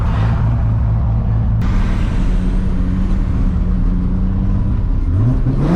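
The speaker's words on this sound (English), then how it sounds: "we're driving in a golf cart" A golf cart drives along, putting out a loud, steady low motor drone and road rumble with a rising whine near the end, and no voices.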